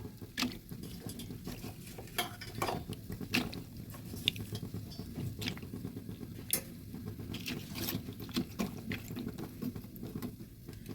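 Pumpkin stalks boil in a pot, giving off a soft, continuous bubbling and patter with scattered small pops and ticks, close and fairly quiet, with no voices.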